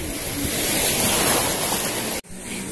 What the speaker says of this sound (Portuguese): E olha essa praia, galera.